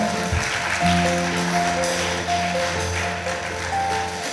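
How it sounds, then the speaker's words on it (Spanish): Church congregation applauding during a Spanish-language Reformation anniversary sermon, a sustained mid-level wash of clapping with steady organ or keyboard tones held underneath. "quiero pedirle a la iglesia que le dé un aplauso al Señor"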